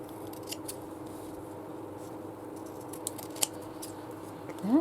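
Scissors trim a paper craft tag, with a few soft, close snips over a steady low background hum.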